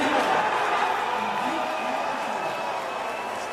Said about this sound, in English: Here's the crowd reaction.